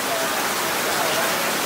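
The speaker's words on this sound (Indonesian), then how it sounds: "hujannya deras banget" Heavy rain pours steadily at night at a North Bali wedding venue, a dense continuous hiss of drops on surfaces, close and loud with no pauses.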